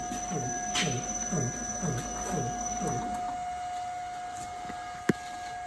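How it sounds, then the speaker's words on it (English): An air compressor driven by a Huanyang VFD runs with a rhythmic pumping pulse and a steady high electrical whine, the pulsing fading after a few seconds while the tone continues, ending with a sharp click. "we've got the compressor running, but not all the way"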